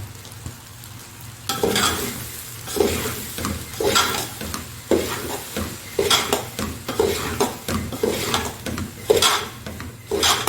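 Vegetable fried rice is tossed and stirred in a hot pan with a spatula, giving a steady run of rhythmic scraping strokes over a light sizzle, close and fairly loud.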